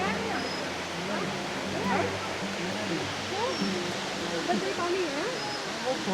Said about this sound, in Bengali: দেখো এটা হচ্ছে সেকেন্ড ফলস।